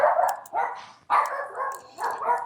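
A pet dog barks in four or five short bursts, each a strained, mid-pitched bark with a brief pause between, close and moderately loud, with no other sound.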